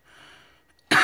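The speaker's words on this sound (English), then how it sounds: "Again, I apologize for my coughing." A single person coughs once, a sudden loud burst at the end that follows a quiet, breathy lead-in.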